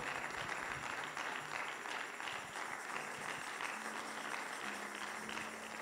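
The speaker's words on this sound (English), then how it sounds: "Clap for the Lord" A church congregation keeps up sustained clapping during worship, a broad wash of hands that carries on throughout with faint sustained tones beneath it.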